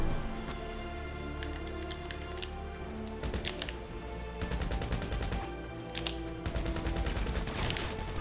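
Video game gunfire crackles through a busy, layered game soundscape, with scattered sharp shots and short clustered bursts over a constant background of music and effects.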